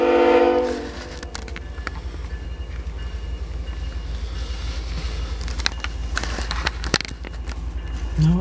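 A GE freight locomotive sounds a loud, tonal horn blast, then a long, heavy rumble of rail cars rolls past with rhythmic clanks and wheel clicks, and a short horn note returns at the end.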